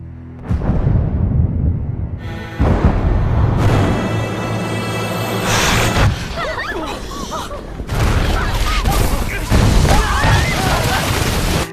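Missile explosions in the Korean zombie series All of Us Are Dead: heavy, loud booming blasts and crashing rumbles roll through the scene in several waves, with a voice narrating over them.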